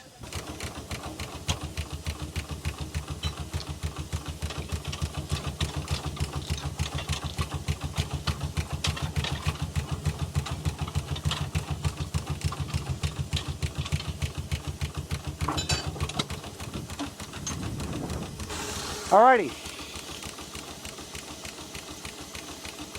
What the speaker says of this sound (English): So what you're looking at is a real functioning steam engine.